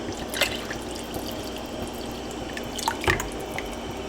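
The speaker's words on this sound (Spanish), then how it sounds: "quiero agregarle otra taza de agua aquí, porque después de que se cocine todo no quiero que me quede muy seco" Water poured into a simmering pot of white pozole, with a few soft drips and splashes over a steady background hiss in a home kitchen.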